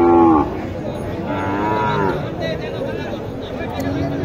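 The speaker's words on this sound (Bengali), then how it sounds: "গরুটা অনেক চমৎকার একটা গরু," A young Sahiwal heifer at a cattle market in Naogaon lets out a loud, near moo at the start, followed by further drawn-out lowing under a murmur of crowd chatter and background market noise.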